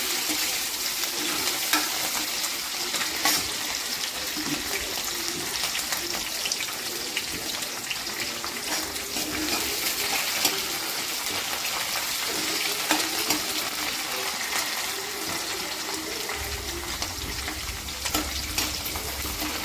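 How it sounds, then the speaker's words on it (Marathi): Green chillies sauté in a pan with garlic already fried red for methi bhaji, making a steady, even hiss of frying oil that continues without pause, close and moderately loud. "तर याच्यामध्ये आपण हिरवी मिरची टाकून घ्यायची। हिरवी मिरचीला छान परतून घ्यायचं।"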